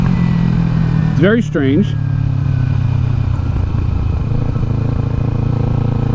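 A 2014 Kawasaki Ninja 300 ABS motorcycle accelerates in first gear, its engine a steady, loud mid-pitched drone with wind rush beneath a rider's brief spoken comment.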